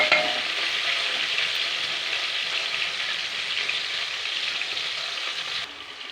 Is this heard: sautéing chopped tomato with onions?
yes